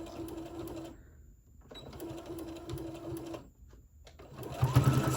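Sewing machine stitching straight across several thick layers of a spring tote bag, running in steady mechanical bursts with two brief pauses, close and loud, with a rustle of fabric at the end.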